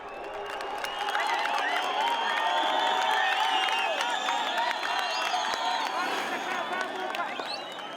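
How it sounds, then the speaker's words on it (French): Thousands of spectators lining town streets cheer and clap as riders contest the first sprint of a Tour du Rwanda stage in Muhanga, a dense, sustained roar of crowd noise with whoops that swells after the first second and holds steady. "Ils sont des milliers à applaudir le premier sprint de cette étape."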